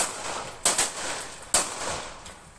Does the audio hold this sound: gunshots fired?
yes